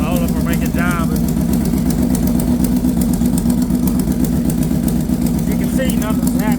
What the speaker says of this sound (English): Bike still revs good.